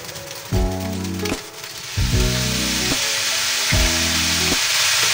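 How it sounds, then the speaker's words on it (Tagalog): Fried rice sizzles steadily in a hot pan as soy sauce is poured in, with a constant hiss and three bursts of strong, humming tonal noise over it. "Lagay na po natin yung ating toyo."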